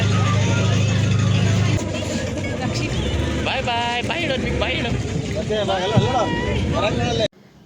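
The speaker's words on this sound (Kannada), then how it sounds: "ಈ ಬೋಟ್ ಸ್ಟಾರ್ಟ್ ಆಗ್ತಾ ಇದೆ." A speedboat engine starts and runs steadily, loud and close, with a dense wash of motor and wind noise, while people talk over it; the sound cuts off abruptly near the end.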